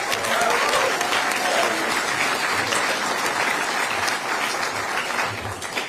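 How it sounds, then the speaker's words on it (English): Steady, enthusiastic applause from an audience fills the whole stretch, dense clapping at an even loudness with no voices on top. "Everyone give a big round of applause and a warm welcome to Ben Cochran."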